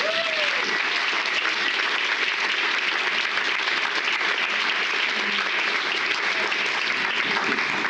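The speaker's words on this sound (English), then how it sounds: "Can we give them a round of applause?" Brunch gathering audience giving a round of applause, a steady continuous wash of many people clapping, fairly loud and unbroken.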